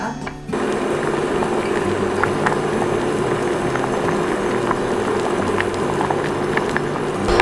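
Water with soaked five grains for rice bubbling steadily in a pot, a continuous close rolling boil with a dense broadband hiss and faint intermittent pops, no talking.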